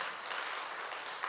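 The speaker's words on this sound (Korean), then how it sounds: "박수 한번 쳐." A brief burst of dense congregational applause during a Wednesday Bible class at a church, a steady, even wash of many hands clapping at moderate volume.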